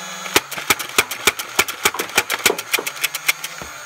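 A Rayven CS-18 foam dart blaster fires a rapid string of about twenty sharp, evenly spaced shots over its humming flywheel motor, close up, ending as the motor winds down.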